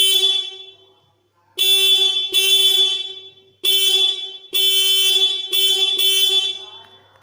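A motorcycle horn sounds in repeated loud, steady honks, five blasts of uneven length, some about a second long, separated by brief gaps, close by and with no other sounds.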